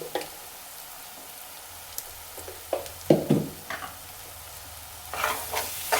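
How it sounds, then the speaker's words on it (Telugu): Turmeric frying in hot oil in a pan, a soft steady sizzle under intermittent stirring scrapes and clinks, with a brighter burst of sizzling near the end. "నేను కొంచెం పసుపు వేసి ఒక హాఫ్ మినిట్ అయితే వేగించుకుంటాను"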